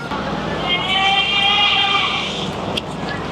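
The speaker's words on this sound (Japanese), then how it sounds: "なんかヤギも運ばれてるんかめっちゃ見え見え。" Goats bleating while being carried in transport on Aguni Island, Okinawa, several wavering, drawn-out cries close by over a steady vehicle rumble.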